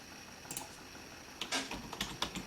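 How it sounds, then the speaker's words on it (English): Typing on a computer keyboard connected to an MK802 Android mini PC, a faint sparse run of key clicks over quiet background hum, getting busier toward the end. "Yep, keyboard is working, no problem."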